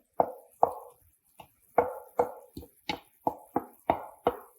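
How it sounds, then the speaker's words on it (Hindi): Chunks of potato and cabbage drop one after another into a pot of boiling carrots for a vegetable pulao, about ten close, crisp plops and splashes in an irregular rhythm with brief quiet gaps between them. "मैं इसमें आलू डाल रही हूँ।"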